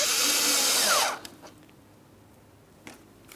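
A power tool drives a hose clamp tight on the thermostat housing of a 2003-2007 Cadillac CTS 3.6L V6: a loud, whirring burst of about a second, then quiet, with a few faint clicks and knocks.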